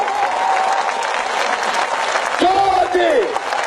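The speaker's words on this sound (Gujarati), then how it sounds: "જોરથી તાળી પડવી જોઈએ" A crowd at a political rally claps loudly in a dense, continuous burst of applause, with a voice briefly rising over it near the end.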